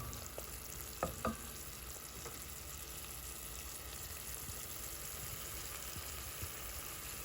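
Garlic, shallots and spices frying in coconut oil for a tofu curry, a soft steady sizzle with a few faint clinks of a utensil.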